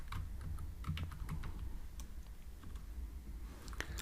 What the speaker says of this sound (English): So I can type here SOUT.